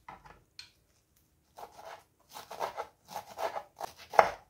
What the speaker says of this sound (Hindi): बिल्कुल बारीक काटना है, जैसे धनिया की पत्ती काटते हैं उसी तरह से